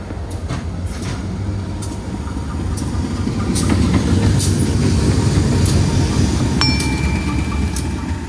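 Jayakarta passenger train running on rail in Indonesia, a steady rumbling roar of wheels on track with faint clickety-clack and a brief high squeal, heard continuously and close.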